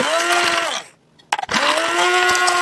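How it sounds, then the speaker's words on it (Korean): A hand blender whirs steadily through a small batch of light cosmetic cream, stops briefly for a second or so, then starts again with a few bumps and keeps humming loudly. "그래서 도깨비 방망이로 얘를"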